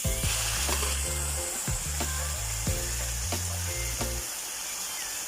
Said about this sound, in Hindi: Dopo un minuto mettiamo i figati.